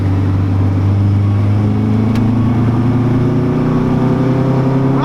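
A Honda B16-engined CRX Del Sol revs hard, its engine note climbing steadily in pitch as it pulls toward VTEC, loud and close with no talk.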